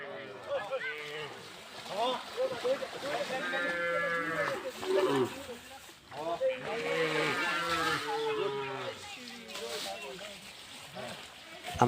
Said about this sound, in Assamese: গৰু গা ধুৱাবলৈ আহিছোঁ।